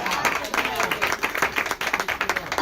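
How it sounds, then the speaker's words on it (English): A church congregation claps hands in a brisk, uneven burst of applause, loud and close, while voices speak over and among the claps. "Clap your hands and thank God for the message."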